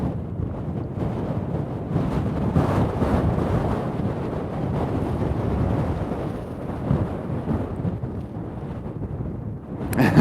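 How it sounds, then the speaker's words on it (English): Strong wind buffets the microphone beside a burning volcanic eruption with smouldering moss fires, a loud continuous rumbling roar with gusts throughout and no talk. "Yeah, it's really quite windy here,"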